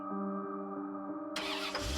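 A car engine starts and roars off at full speed, a low steady hum giving way to a loud sudden surge of revving noise, close and rising.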